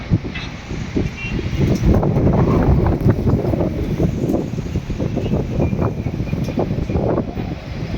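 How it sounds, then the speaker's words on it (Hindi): Strong wind roars continuously during a heavy rainstorm in Hyderabad, a loud, steady broadband rush with gusty swells throughout. "इतना तेज हवा चल रहा है"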